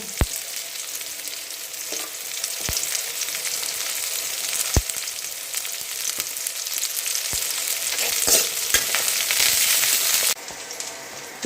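Curry leaves crackle and sizzle in hot oil, a continuous bright frying hiss punctuated by sharp pops and a few clicks.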